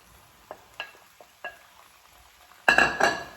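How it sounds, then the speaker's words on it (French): Ratatouille vegetables with freshly added tomatoes and peppers are stirred in a cooking pan, giving a few soft scraping clicks followed by a louder burst of sizzling and utensil scraping near the end, with no talk. "On mélange."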